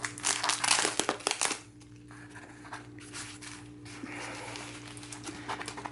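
Packing tape and wrapping being peeled and crinkled off a shipped collectibles package, with close, loud crackling and ripping at first, then quieter rustling handling.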